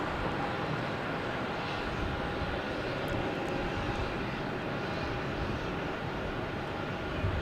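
Airbus A320neo jet arriving from Fort Lauderdale into Logan Airport at night, a steady broadband engine roar holding at constant loudness throughout with no break, as though passing at moderate distance.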